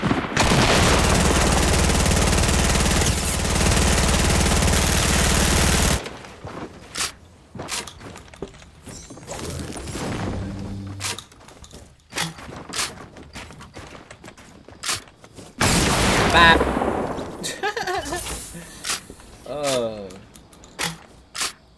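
Shotgun blasts in Fortnite Battle Royale, scattered sharp shots and bursts amid game effects after a loud sustained opening noise, with a player talking at times.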